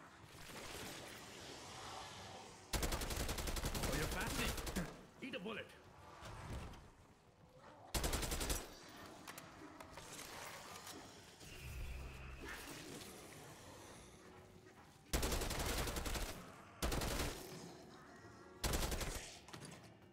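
Gunfire from a gun in the Call of Duty zombies mode on the Liberty Falls map, coming in several loud, sustained bursts separated by quieter gaps filled with game ambience.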